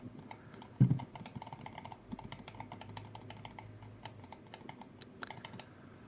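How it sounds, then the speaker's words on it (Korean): Buttons on an Incott G23 Pro hot-swappable gaming mouse with quiet switches, clicked in a short series of faint, crisp taps with small gaps between them, close and soft. "저소음이 좋긴 한데 클릭압이 좀 높습니다. 확실하게 눌러줘야 돼."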